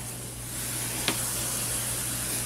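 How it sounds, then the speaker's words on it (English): A steady, soft hiss of a spray bottle misting a ball python enclosure runs throughout, with a single brief tick partway through, and no talking. "give it a good spray."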